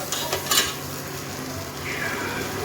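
Onions fry until golden in a pan for chana dal chutney. A moderate sizzle runs throughout, with a few utensil clinks and scrapes near the start.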